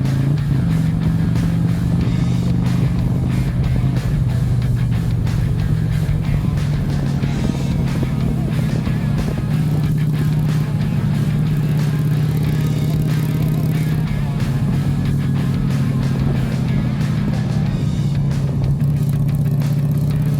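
A Harley-Davidson motorcycle engine drones loud and steady as it speeds up along a wooded mountain road in Mexico, its low rumble continuous with slight pitch shifts throughout.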